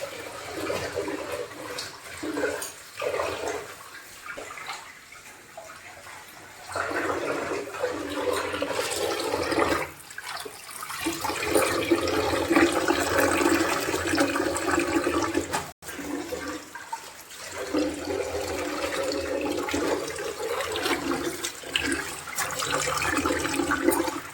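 Steady running water splashing over freshly picked spinach leaves from a home field, rinsed in a kitchen, continuous and fairly loud for the whole stretch with brief dips.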